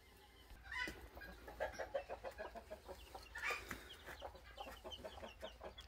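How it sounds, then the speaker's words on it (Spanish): Chickens and chicks on a small ranch clucking and peeping, with several close, fairly quiet calls overlapping in an irregular rhythm and a few brighter squawks; no talking. "Los pollitos, miren qué lindos."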